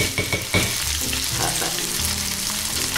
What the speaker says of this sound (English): It's always a good idea when you're cooking dried pasta to give it a stir part way through